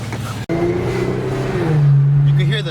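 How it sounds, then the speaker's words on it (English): An Infiniti Q50 3.0t twin-turbo V6 with a Megan Racing Y-pipe and muffler delete drones loudly from inside the car, its tone shifting as turbo whine rises, with voices talking over it. "You can hear the turbos more now."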